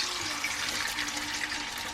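Beaten eggs hit a hot buttered pan and hiss into a steady close sizzle for a couple of seconds, with no talking.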